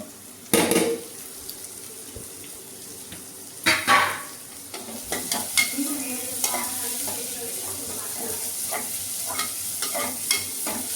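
Dried red chillies and curry leaves frying in oil in a pan, with sharp stirring clatters and bursts of sizzle against a steady crackle, plus faint water-like splashing.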